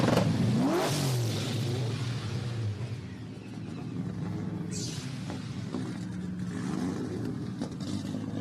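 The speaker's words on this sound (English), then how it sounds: "gentlemen, start your engines" Drift car engines rev loudly at a UK Drift Championship pro battle at Teesside, a rising roar near the start that settles into a sustained, droning engine note with further surges.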